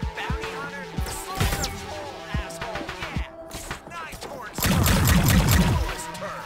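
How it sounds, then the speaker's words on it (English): Gunfire crackles in a firefight in the video game High on Life, with scattered shots under in-game voices and then a louder, dense burst of shooting near the end. "Shit, they're shooting at us!"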